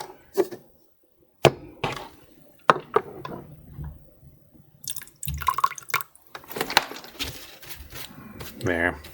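Running and dripping water as a plastic part from a Real Grade Zeong MSN-02 model kit is briefly rinsed, with splashy bursts and drips between scattered knocks, under intermittent talk.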